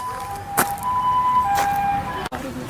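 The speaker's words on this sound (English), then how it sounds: "I apologize for the sirens in the background." Sirens wail faintly in the distance over steady road noise outside a garden in Japan, with a couple of brief sharp bursts standing out.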